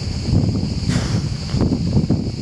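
A light breeze blowing outdoors, a soft, steady broadband rush with low buffeting against the microphone and no voices.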